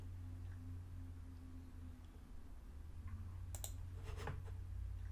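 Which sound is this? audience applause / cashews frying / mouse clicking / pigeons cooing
mouse clicking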